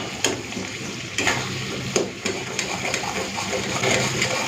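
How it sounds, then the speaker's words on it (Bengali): Ground teasel gourd paste, seasoned with salt, turmeric and sugar, frying in a pan as it cooks off its water, giving a moderate steady sizzle with a few sharp scrapes and clicks of stirring. "এরপরে এই বাটাটাকে ভালো করে ভেজে নেব"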